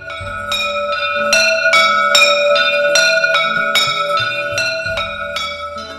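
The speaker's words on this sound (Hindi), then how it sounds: "मंदिरों में जब आरती की घंटियां गूंजती हैं" Temple bells ring during aarti at a Radha Krishna temple in Sikar for Janmashtami, struck in a steady, repeated rhythm with bright metallic tones that overlap and sustain, loud and close, with no talking.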